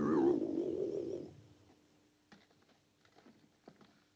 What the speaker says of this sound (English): That's the sound of the saucer we heard on the tape.